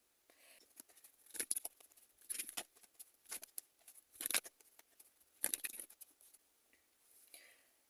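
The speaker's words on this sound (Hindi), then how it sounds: "तो चलिए कुछ और कार्ड्स लेते हैं" Tarot cards drawn and shuffled from a deck, making soft papery flicks and slides in quick irregular bursts, close and fairly quiet.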